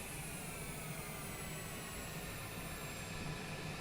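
A Cessna Longitude business jet in Microsoft Flight Simulator roars steadily with thrust reversers engaged after landing at Lukla, a constant broad engine wash with a faint high whine, no voices.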